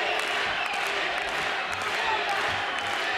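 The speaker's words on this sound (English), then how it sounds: "The local crowd cheering for Denis, cheering his name, trying to keep him going." A local boxing crowd at a Ukraine versus USA bout cheers for fighter Denis Shkarubo, a dense, continuous roar of voices filling the arena at a loud, steady level throughout.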